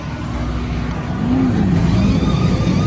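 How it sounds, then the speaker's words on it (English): NASCAR race car engines rumble steadily nearby on pit road, a low droning hum that swells slightly as a car rolls past, no voices. "Cars rolling on pit road."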